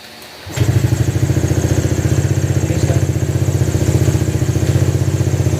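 A motorcycle engine, just running again after an ECU repair, fires up suddenly and settles into a loud, close, steady idle with a rapid even pulse.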